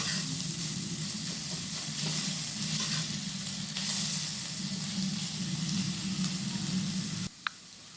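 Steady sizzling of onion and garlic paste frying in hot oil with occasional stirring, continuous and close, ending with a brief clink.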